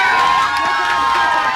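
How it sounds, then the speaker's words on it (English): A large audience cheering for a Pixar character, a dense roar of shouting and high-pitched children's voices filling the whole short stretch, loud and sustained. "Why the heck is the audience cheering for this"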